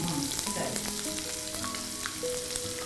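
Onions sizzle and fry steadily in a hot pan while a home cook prepares a Sunday special dish, a continuous close crackle with faint stirring and no talk.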